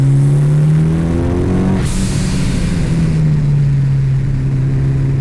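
A 260 kW Mitsubishi Evo 6 with a turbocharged 4G63 engine pulls hard, giving a loud, close drone whose pitch climbs, drops at a gear change, then holds steady, heard from inside the car.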